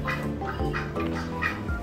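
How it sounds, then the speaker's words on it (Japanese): Ducks at a pet shop quack in a busy, overlapping chorus, nearby and moderately loud, with nasal calls repeating rapidly. "隣にはアヒルもいてにぎやかですね。"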